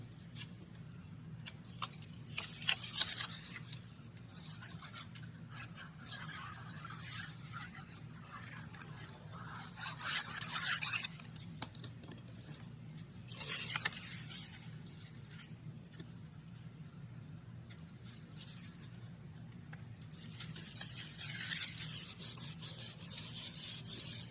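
Paper is rubbed and pressed down by hand to glue an envelope pocket into a vintage coffee journal, with soft scratchy swipes coming in a few separate bursts over a quiet steady hum.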